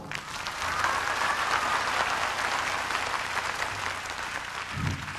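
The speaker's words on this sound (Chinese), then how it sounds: "希望大家用最热烈的掌声谢谢他们好不好" Warm applause from a concert crowd thanking performers at a show, rising quickly to a full, steady roar of clapping that carries on throughout.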